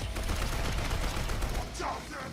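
Rapid gunfire bursts from a video game trailer, dense and continuous for a couple of seconds, with a sharper crack near the end.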